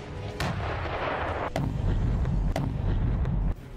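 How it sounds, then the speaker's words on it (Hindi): A Ukrainian army T-30 122 mm artillery gun fires shells in the Bakhmut area, several sharp booming blasts spaced about a second apart over a low rumbling background. "ये T-30 तोप 122 मिलीमीटर के गोले फायर करती है"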